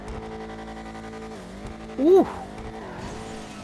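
HSW car from GTA 5 Online revving loud inside a tunnel, its engine note rising sharply in a brief roaring burst over a steady droning idle, with tire squeal and a short exclamation from a voice.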